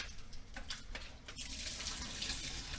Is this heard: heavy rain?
no